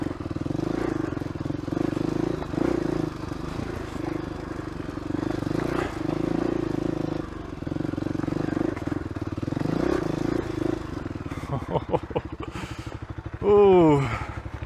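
Motorcycle engine pulling steadily in first gear on a tight, rough trail ride, a constant low drone running throughout with a rider's voice heard over it near the end.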